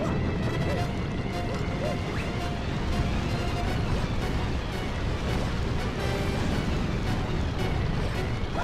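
Meteorites crashing onto a platform in Super Mario Galaxy, a dense, loud run of smashing impacts and rumbling booms layered over game music, continuous and busy throughout.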